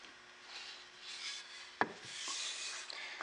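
Sandpaper rubbing along a wooden axe handle in steady, quiet strokes, with one sharp knock partway through.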